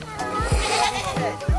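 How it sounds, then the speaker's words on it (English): Goat at an animal sanctuary bleating a few times close by in short wavering calls, mixed with a child's and adults' voices speaking nearby. "Be careful with the goat"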